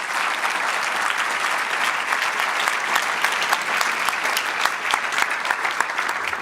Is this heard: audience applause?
yes